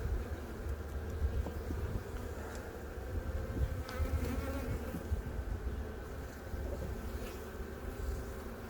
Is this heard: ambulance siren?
no